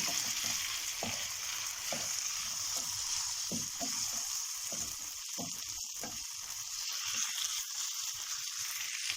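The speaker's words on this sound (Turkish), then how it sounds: "Patateslerimiz kızarmaya başladı arkadaşlar gördüğünüz gibi. Şöyle bir karıştıralım." Potato pieces fry in a pan with a constant sizzle, broken by repeated scraping and stirring knocks from a utensil, close and fairly loud throughout.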